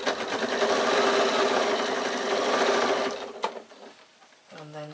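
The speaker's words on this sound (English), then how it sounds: "have your seam facing down and sew straight across." A sewing machine stitches straight across a bag lining seam, a fast, close, steady mechanical whir that runs for about three seconds and then stops, followed by a brief softer clatter.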